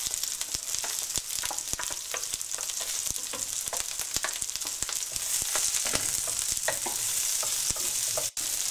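Sausages, onion and garlic fry in oil in a pan, giving a steady bright sizzle broken by the scrape and clack of stirring, close and continuous.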